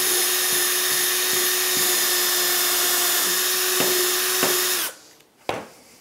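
A power drill whines steadily at high speed for several seconds, then stops abruptly, followed by a brief clatter.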